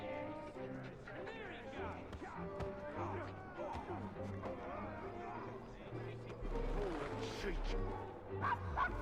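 A dog in the Assassin's Creed Syndicate video game barks, yips and whimpers in repeated bursts at strangers, fairly close, mixed with a spoken voice and game background sounds.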